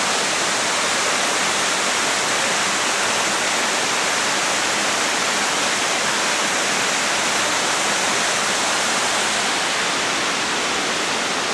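The middle fork waterfall at Lytle Creek roars as a steady, full-bodied hiss of falling water, loud and unbroken throughout with no voices.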